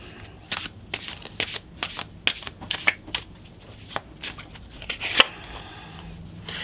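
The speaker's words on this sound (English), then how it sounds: "I'm going to pull one more card here" Tarot cards being shuffled and drawn from a deck, a run of crisp, close riffling slaps and flicks in uneven bursts, with one sharper snap near the end and no talking.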